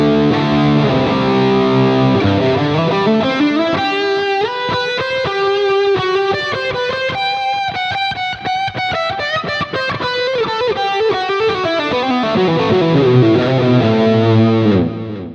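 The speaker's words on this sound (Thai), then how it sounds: "อันนี้คือเสียง แตกที่ผมยังไม่ได้บูสต์เกณฑ์นะครับ" An electric guitar plays through a NUX B-8 wireless system with distortion but no boost engaged, a loud, saturated run of notes climbing and then descending, sustained for about fifteen seconds without any voice.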